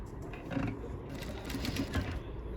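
A sewing machine stitches a pattupavadai, the traditional silk skirt, running in a fast continuous rattle of needle strokes, close and steady with slight surges in speed.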